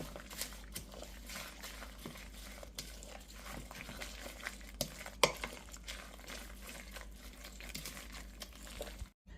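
Salted chonggak radish is tossed and mixed by hand into wet kimchi seasoning, giving continuous squelching, stirring noise with scattered sharper clicks and a low steady background hum.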